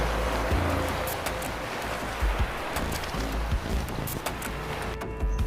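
Open-sea waves wash and surge against a ship at night, heard from the railing of a lonely deck. The broad rushing roar is close and continuous, with gusty swells and wind buffeting.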